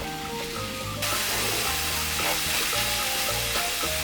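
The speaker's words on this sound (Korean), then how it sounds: "빈 팬에 두부 한 모를 올리고 주걱으로 으깨주세요" Block of tofu mashed with a rounded spatula in an empty frying pan, a steady broad sizzle with scraping stir sounds throughout, growing louder after the first second; no talking.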